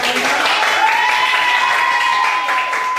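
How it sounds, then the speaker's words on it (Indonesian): Classroom applause for a student group in a high school physics lesson, a steady dense patter of clapping with a sustained tone and some voices mixed in. "Tepuk tangan buat kelompok 5"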